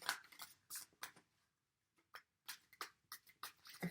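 Tarot cards are shuffled by hand, making quick bursts of riffling and slapping with short pauses between them. The sound is close and quiet.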